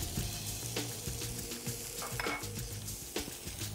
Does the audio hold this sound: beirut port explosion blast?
no